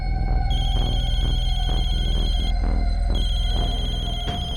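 A telephone rings with a loud, continuous electronic trill that repeats rapidly and steadily, close and alone, in a hospital setting.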